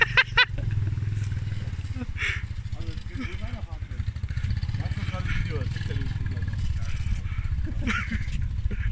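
A quad ATV drives close by with a steady low engine drone and rumble that runs almost the whole time, with a few clattering knocks near the start and bits of talk and shouting over it.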